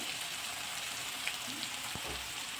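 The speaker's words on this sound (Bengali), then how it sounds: "পেঁয়াজটা ভালো করে ভেজে নেব" Chopped onions, about 400 grams with salt, fry in hot oil with bay leaves for a Bengali mutton and potato curry, giving a steady, even sizzle that crackles throughout like light rain, with no voices.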